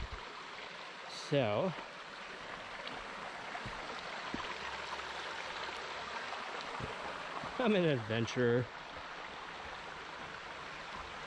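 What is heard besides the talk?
small creek stream flowing water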